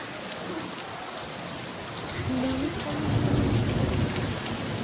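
Steady heavy rain pours throughout, a dense hiss of drops on surfaces that swells slightly louder in the second half.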